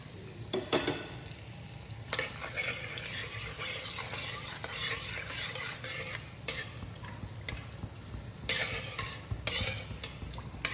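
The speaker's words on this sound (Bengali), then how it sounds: "আলু ভাজার তেলে আমি ফোড়নগুলো দিয়ে নেব" Whole spices (two dried chillies, two bay leaves, three cloves, four cardamom pods and three cinnamon pieces) crackle and sizzle in oil left from frying potatoes, with a steady hiss broken by scraping stirs and light clinks of a utensil.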